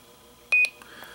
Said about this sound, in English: Once it beeps, you've now changed these buttons.